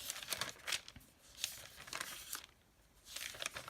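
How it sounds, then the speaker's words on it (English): Woodlands washi tape is handled in soft, close bursts of crinkling and rustling, separated by brief quiet pauses, faint and with no speech. "This is a great little Woodlands washi tape from Joann's."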